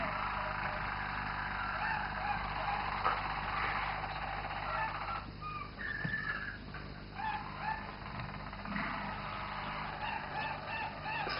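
Roller canaries sing at a national song contest, a continuous soft rolling trill with flowing tours and warbles under a steady background hiss, no talking.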